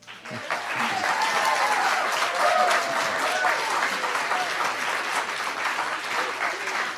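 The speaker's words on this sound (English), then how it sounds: "just had an entire audience of people applaud you on this subject" A crowd applauds steadily and warmly for several seconds, the clapping dense and continuous before tapering slightly.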